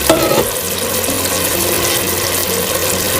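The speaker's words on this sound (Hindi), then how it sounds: "अब हम चिकन में पानी ऐड कर देंगे क्योंकि अब हमने राइस डालना है।" Water poured into a pot of chicken korma before rice goes in, a steady sizzling, bubbling wash of liquid that holds even throughout, with no voices.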